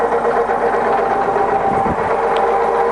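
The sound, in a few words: Lagun FU.1-LA milling machine head running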